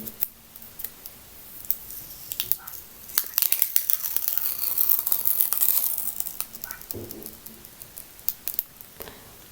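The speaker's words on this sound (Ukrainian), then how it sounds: "я скотч відклеювала" Sticky tape is slowly peeled away with a long crackling rip in the middle, surrounded by scattered crinkles and small clicks up close.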